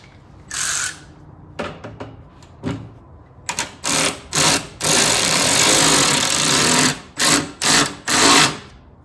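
Cobb intake clamp on a Subaru WRX being tightened with a 10 mm tool, giving a run of quick ratcheting bursts, some short and some longer, loud and close with no talking.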